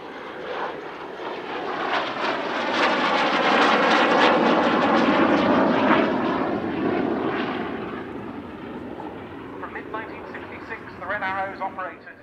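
A classic jet aircraft passes during an air show display at RAF Cosford, its engine roar swelling loud and then fading away, with voices heard near the end.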